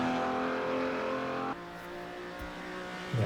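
Ferrari engine in the Assetto Corsa racing game, a steady loud drone under braking and acceleration, dropping in pitch halfway through as the revs fall, then rising again at the end.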